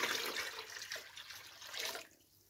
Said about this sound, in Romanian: Adăugăm apă rece